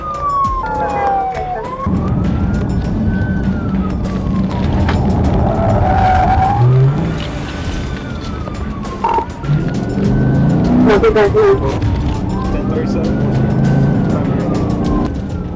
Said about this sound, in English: The chase tore across county roads, with multiple units closing in as the suspect weaved through neighborhoods and back onto the highway.